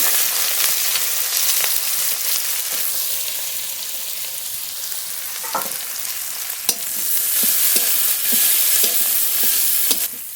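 Chopped onion frying in oil with cardamom, cloves and cinnamon, a continuous close sizzle with scattered spatula scrapes and taps against the pan, no talking.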